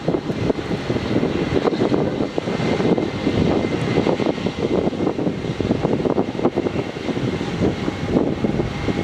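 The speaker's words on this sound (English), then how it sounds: "We go back to this JetStar A320, which is now starting up its engines." A JetStar Airbus A320 at Melbourne Airport spooling up its jet engines at startup, a loud, steady roaring whine with rumbling turbulence, heard close and continuous with no voices.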